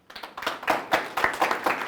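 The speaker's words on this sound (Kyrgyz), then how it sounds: "Азамат кол чабуулар." An audience gives a short burst of applause at a motivational talk, the claps quick and dense, rising from silence and continuing steadily for a couple of seconds.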